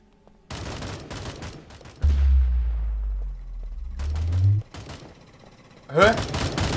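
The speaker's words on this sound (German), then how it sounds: "Die schießen!" Gunfire in the VR shooter Contagion VR Outbreak comes as bursts of shots alongside a deep rumbling boom that swells and fades, and a voice is heard briefly near the end.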